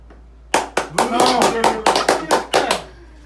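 A small group claps at a birthday party right after singing: about nine sharp, loud, slightly uneven claps in quick succession, close by, then a quiet tail.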